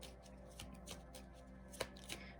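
A deck of chakra oracle cards being shuffled by hand, giving quiet, close riffling and flicking sounds with a few sharper slaps of cards striking together and no talking.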